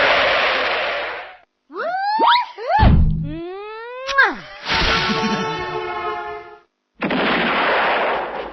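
Video game gunfire with whip-like cracks and sweeping pitched whooshes, several shots in quick succession between bursts of loud noisy blasts.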